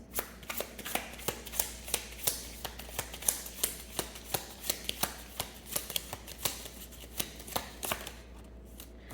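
Tarot cards being shuffled by hand in a steady series of crisp riffling snaps, close and fairly quiet, continuing for several seconds with no talking.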